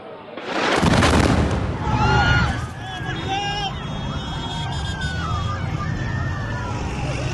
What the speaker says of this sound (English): that's when the bombs went off